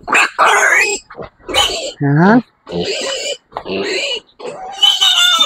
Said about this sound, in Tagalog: Ito po ay first parity ng isa kong baboy